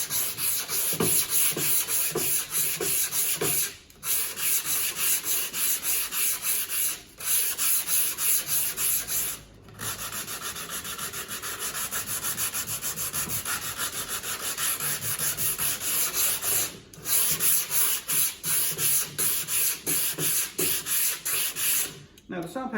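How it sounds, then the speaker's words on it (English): Sandpaper wrapped around a cork block rubs along the grain of a maple board in steady back-and-forth strokes, loud and close, with a few brief pauses between passes. "You wrap the sandpaper in the cork block, like so, and you sand with the grain in the direction of the grain."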